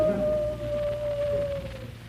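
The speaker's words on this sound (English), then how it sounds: "It sounds like a wolf." A wolf-like howl sound effect in an old radio comedy sketch, standing in for a telephone ringing: one long, steady, slightly falling wail held for about two seconds, loud and close, with a low hum underneath.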